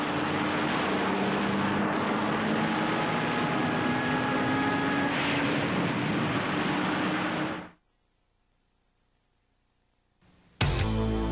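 RAF Tornado F-3 fighter jets roar loudly and steadily with a rising engine whine, the sound cutting out abruptly, followed by a brief burst of noise.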